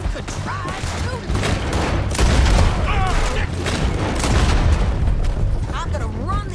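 Rapid bursts of gunfire and booming shots from the video game Red Dead Redemption 2, repeating in a dense barrage under excited voices talking over the action.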